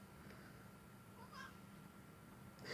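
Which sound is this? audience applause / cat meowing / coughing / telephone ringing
cat meowing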